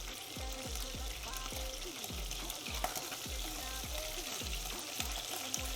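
Food browning in a hot frying pan, seasoned with salt, pepper and a little chili, gives a steady close sizzle with soft, regularly repeating low thumps underneath.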